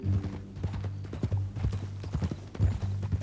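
Hooves clip-clop at a steady walking rhythm in Red Dead Redemption 2, close and clear over a low rumbling background, with no talk over them.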